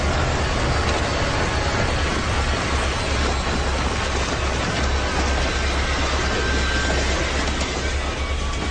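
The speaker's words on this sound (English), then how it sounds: "It's just a train." A train rumbles past close by, a loud continuous roar of wheels on rails with a deep low drone throughout.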